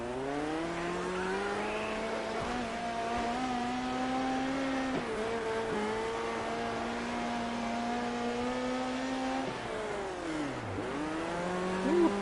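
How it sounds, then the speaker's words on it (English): Midget race cars roar around the Fairbury dirt track at the start of an 18-lap race, a dense pack of high-revving engines whining continuously with rising and falling pitch as cars pass, loud and sustained throughout. "Midget racing, 18 laps. Fairbury, green."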